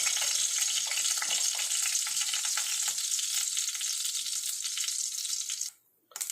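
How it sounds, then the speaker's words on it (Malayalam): Mustard seeds splutter and crackle in hot oil in a home kitchen, a dense, loud, steady sizzle with fine popping that runs almost throughout and cuts off abruptly near the end. "കടുക് ഇട്ട് പൊട്ടിയിട്ടുണ്ട്"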